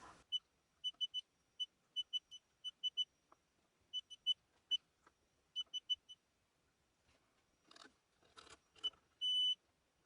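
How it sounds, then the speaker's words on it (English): A multimeter sounds short continuity beeps while probing reworked chip sockets on a Commodore 64 board. Many quick high electronic bleeps come in irregular bursts, close but quiet, ending in one longer tone. "it never hurts to do a quick continuity check along these rows of chips"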